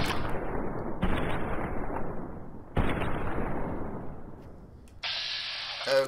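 Sustained gunfire in the Fallout: New Vegas video game, dense continuous rattling bursts with sharp onsets, loud and close, punctuated by a brief tonal ping near the end.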